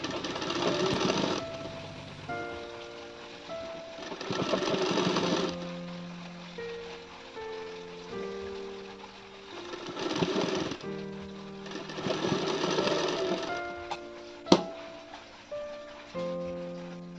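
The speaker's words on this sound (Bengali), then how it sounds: "এই দেখুন আমি তো সেলাই দিয়ে নিয়েছি" Sewing machine stitching pleats on a net saree being made into a long gown, running in several loud bursts separated by pauses, with music-like tonal sounds underneath.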